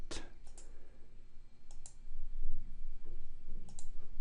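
Sparse, quiet clicks from a computer keyboard as a short column title is typed, coming in small bursts of keystrokes separated by pauses over faint background hiss.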